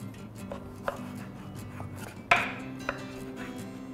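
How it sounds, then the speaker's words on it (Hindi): A knife dices a large aubergine (brinjal) on a chopping board, giving a few sparse, quiet knocks with one sharper, louder chop near the middle, set against faint background hum and no talk. "बैंगन को डाइसेस में काटना है।"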